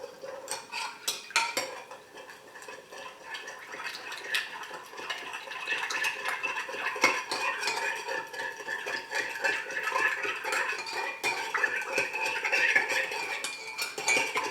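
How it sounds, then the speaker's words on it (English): A spoon stirs seasoning into a pot of pig's feet sitting in water and juice, with steady scraping and clinking against the pot and a few sharper taps early on, close and continuous. "so you're going to stir this in until it's well dissolved"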